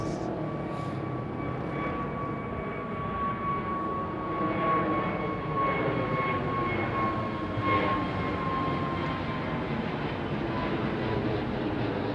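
A jet airliner on Heathrow runway 09R roars in a steady, continuous rumble with a sustained whine, fairly close and even in loudness throughout.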